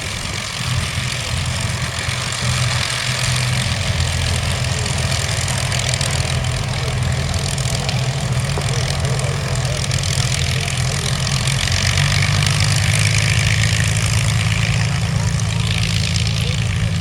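Vintage warplanes at an airshow taxi with their propeller engines idling, a steady loud low drone that keeps going throughout and swells slightly near the end, while people talk over it.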